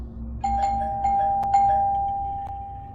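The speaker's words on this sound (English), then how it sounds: "I jumped to the sudden sound of the doorbell." A doorbell chimes several times in quick succession, clear electronic ding tones ringing out over a quiet room hum.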